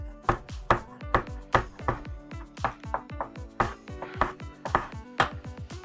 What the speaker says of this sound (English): We're just gonna keep dicing these tomatoes.